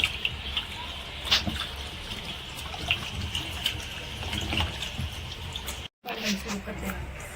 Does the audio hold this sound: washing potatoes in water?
yes